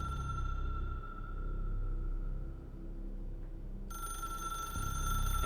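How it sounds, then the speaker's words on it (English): A telephone rings in a video game with a steady electronic tone held for a few seconds, a brief pause, then another ring starting, loud and alone over a low background hum. "Phone's ringing."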